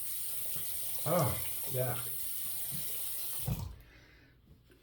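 Water running from a bathroom tap while a razor is rinsed during a shave, a steady hiss of flow that stops near the end, with someone briefly talking over it.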